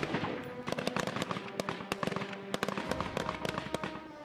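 Rapid, irregular bursts of rifle fire crack out during Taliban weapons training in Afghanistan, sharp reports overlapping at close to middle distance with no voices heard.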